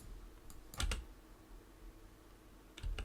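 A few quick computer keyboard key presses during video editing work, a short cluster near the start and another at the very end, quiet and close against a faint room hiss, with no talking.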